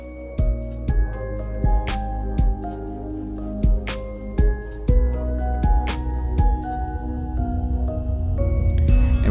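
A rise-and-hit build-up effect in a Cubase-produced song, with layered music and sharp percussive hits swelling steadily louder toward a climax, no voices.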